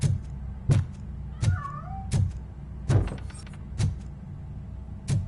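A cat in the video game RoboCop: Rogue City gives a couple of faint, short meows between loud, regular heavy thuds that repeat about every second.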